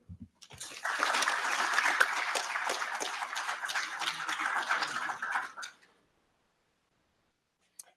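Conference audience at a cyber security event breaks into steady, dense applause welcoming a speaker, rising quickly, holding for about five seconds, then fading out into silence with a faint click afterward.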